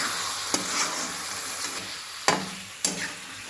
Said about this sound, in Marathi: चिकन सगळं टाकले आता मिक्स करून घेऊया